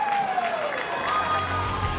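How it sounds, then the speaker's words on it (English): Roaring crowd at a Texas Tech versus Florida State college softball Super Regional game, a steady loud wall of cheering and applause from the stands that holds for the whole stretch. "This crowd is up and amped"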